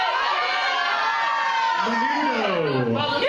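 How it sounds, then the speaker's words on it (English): A crowd of audience members yelling and whooping as loud as they can at an eighties tribute game show, a dense, steady wall of shouting voices that swells toward the end. "you just yell as loud as you can"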